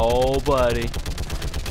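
Turret gunfire in the video game Mass Effect 3: rapid, evenly spaced automatic shots rattle steadily throughout, with a rising electronic whine partway through and someone speaking briefly over it.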